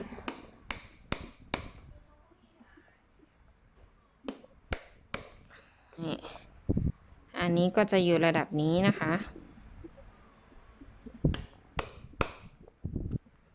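Sharp tapping strikes come in quick clusters as holes are punched in a woven basket to fit handles, close and percussive, with someone speaking briefly in the middle before the tapping resumes.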